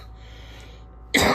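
A person coughs once, a short loud burst near the end after a quiet stretch of low background noise, close to the microphone.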